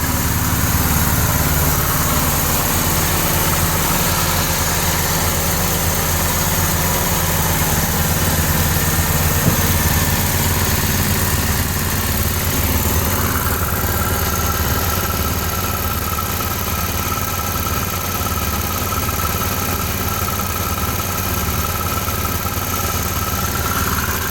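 A 24-volt generator engine runs steadily and loudly up close, a constant droning hum whose pitch shifts partway through as the speed changes.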